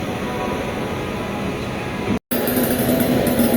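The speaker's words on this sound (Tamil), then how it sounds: "பிளாட்ஃபார்ம் 8ல் பார்த்தீங்கன்னா பந்தர்பூர் மைசூர் கோல் கும்பாஸ் எக்ஸ்பிரஸ் கிளம்பிட்டு இருக்காங்க" Pandharpur–Mysore Gol Gumbaz Express pulling away from platform 8 gives a steady rolling rumble, broken by a brief dropout, then continuing with a faint high whine.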